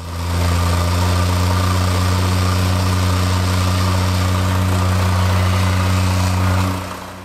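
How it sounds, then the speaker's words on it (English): A pull-start vibrating plate compactor engine runs steadily at a loud, close, even idle-like drone with a strong low hum, then cuts off near the end. "The vibrator operates on what I assume is some sort of centrifugal clutch, as it doesn't start until you get the RPMs up a bit."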